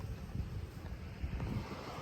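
A strong windstorm over paddy fields buffets the microphone, a steady low rumble with gusty surges throughout.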